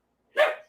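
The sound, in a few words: dog barking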